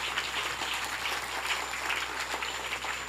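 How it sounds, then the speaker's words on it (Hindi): Audience clapping at a devotional Devi Bhagwat katha gathering, a steady dense wash of applause from many hands lasting a few seconds with no speech. "तालियों से स्वागत करिए।"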